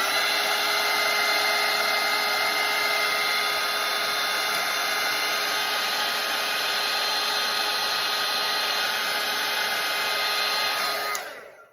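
A hair dryer blows steadily on a watercolour painting, a loud, even whoosh and motor whine held for about eleven seconds before it clicks off and winds down.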